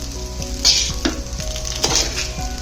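Noodles being stirred and cooked in a hot pan with a spoon: repeated scraping strokes and metallic taps over a constant sizzle, close and clear, with no voices.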